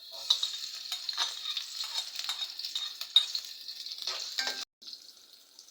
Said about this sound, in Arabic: حطينا الماده الدهنيه، نحط البصل